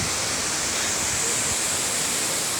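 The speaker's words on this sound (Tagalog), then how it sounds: "Very beautiful view. Grabe waterfall." Mantayupan Falls in Barili, Cebu, roars as a steady, dense rush of falling water, loud and continuous throughout with no voices heard.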